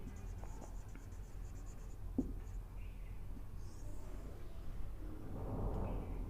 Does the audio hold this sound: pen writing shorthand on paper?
yes